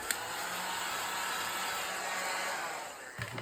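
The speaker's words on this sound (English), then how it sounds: "let me vacuum." A vacuum cleaner running steadily at home, giving a loud, even, broadband whoosh with a faint high whine that continues throughout, then a brief clunk near the end.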